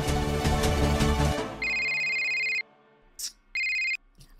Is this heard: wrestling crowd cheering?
no